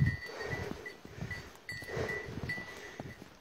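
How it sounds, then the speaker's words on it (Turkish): A goat out on a mountainside, with a bell clanking and animal sounds at close to middle distance over a steady outdoor background, no talking. "Keçimin adı Güzeley."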